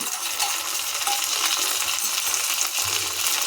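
Ginger and garlic paste stirred into frying onions for a chicken curry, a steady sizzle with scraping of the spoon throughout, close and continuous with no talk.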